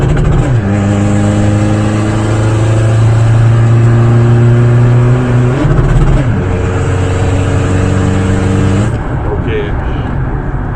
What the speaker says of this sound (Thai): ปรับเกียร์ไม่ต้องยกคันเร่ง นับเดียวร้อยนะครับ